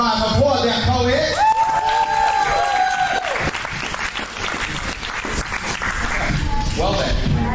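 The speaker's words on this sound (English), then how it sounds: "Applaud that poet." An audience at a poetry slam applauds a poet with sustained clapping, whoops and cheers, while a voice speaks over the opening seconds and again near the end.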